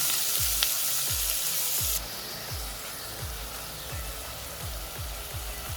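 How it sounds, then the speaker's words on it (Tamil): Tomatoes sauté in a pan for channa rice, a hissing sizzle under a regular series of low thuds, roughly every half second, as the spatula stirs and taps the pan. "தக்காளி கொஞ்சம் வதங்கிட்டோம்."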